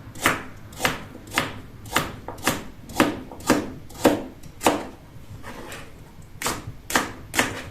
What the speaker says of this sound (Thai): ต้นหัวหอมใหญ่หรือต้นหอมใหญ่นี่ก็เช่นเดียวกันนะคะ หั่นไปเลยค่ะ